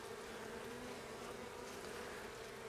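Honey bees hum steadily on a brood frame inside a hive where new bees are emerging, a dense, continuous close-up drone with no talking.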